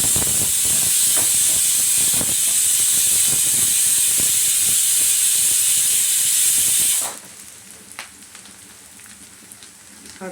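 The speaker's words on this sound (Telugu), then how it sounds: "అటు సైడ్ విజిల్ వచ్చింది." A kitchen pressure cooker holding fenugreek-leaf dal lets off a loud, sustained hissing whistle of escaping steam for about seven seconds, then stops abruptly, leaving faint clinks and quiet kitchen noise.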